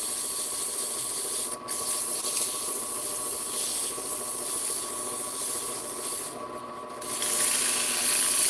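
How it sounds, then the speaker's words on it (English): Hand sanding of a surface on a farm, a steady dry rubbing scrape that continues at even loudness throughout, with a couple of brief pauses and a slightly louder stretch near the end. "Just giving her a little sand,"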